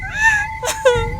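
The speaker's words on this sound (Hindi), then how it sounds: "अलमारी के अंदर से किसी के रोने की आवाज आई।" A woman's soft, quavering whimpers and sobs, close by, heard from inside a wardrobe, with a brief breathy catch between two drawn-out cries.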